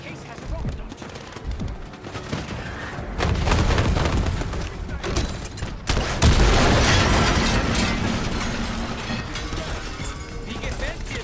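Rocket launcher fire and explosions from Call of Duty Black Ops 6 combat, with loud booming blasts, crashing impacts and rattling gunfire layered into a dense battle din, two big bursts near the middle, with voices talking over it.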